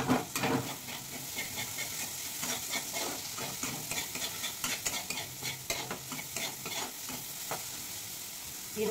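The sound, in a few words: spice paste with chili powder frying in a pan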